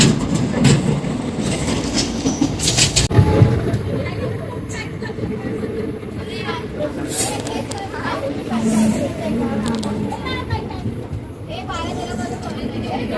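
A moving Tutari Express passenger train runs from Ratnagiri to Mumbai, its steady rumble and clickety-clack wheel noise continuing throughout, with crowded carriage chatter and voices layered over the rail sound.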